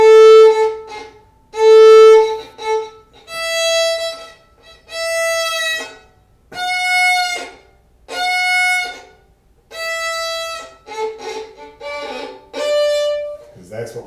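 Bowed string instrument playing a series of sustained notes whose bow keeps moving instead of stopping cleanly, so each note trails off rather than ending crisply; several separate notes in a row, fairly close and clear.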